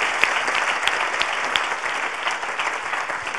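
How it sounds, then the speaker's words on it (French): Steady applause from a conference audience at the 28th HR' Congress, dense clapping filling the whole moment with a few sharper claps standing out, no voices on top. "Je voudrais que vous applaudissiez, que vous remerciez encore une fois Thierry Marx."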